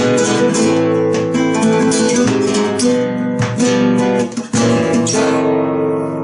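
Bright, ringing flamenco guitar chords using a substitute dominant are strummed up close in a quick sequence, with short rhythmic accents and a brief pause near the end.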